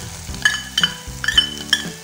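Chopped tomatoes are stirred and sautéed in a pan, the utensil scraping and clinking against the metal several times over a faint, quiet sizzle.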